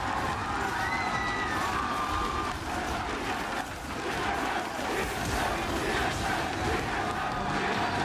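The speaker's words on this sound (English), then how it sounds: "Listen to that crowd. Hometown or not, they know the words." An esports arena crowd at a League of Legends MSI 2017 Play-In match roars and cheers continuously, a dense, loud sustained wall of voices with shouts rising throughout.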